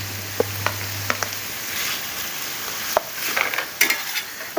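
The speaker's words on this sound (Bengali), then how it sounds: "এবার আপনাদের কাজ এটাকে ভালো করে ভেজে নেওয়া" Mashed potato and pangas (basa) fish cutlet mixture frying in a pan, a low steady sizzle punctuated by sharp spatula scrapes and taps against the pan, with a short hum at the start and no voices.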